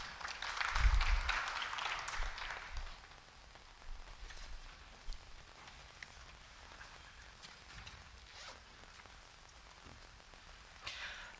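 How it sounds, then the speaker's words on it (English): Conference audience applauding panelists at a water and sanitation investors event, a spread of clapping that swells at first and then thins into scattered claps, fairly distant and without speech. "A round of applause for our panelists."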